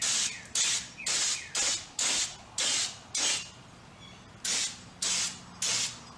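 Non-chlorinated brake cleaner sprays from a can in about ten short, loud hissing bursts, each roughly half a second, with brief gaps and one longer pause, close up with no talking.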